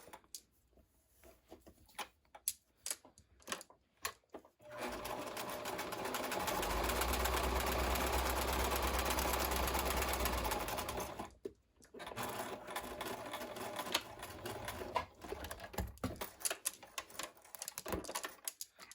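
A sewing machine stitches decorative patterns on fabric for a garden pouf, one long steady run of rapid mechanical whirring, close and fairly loud, between quieter handling clicks before and after.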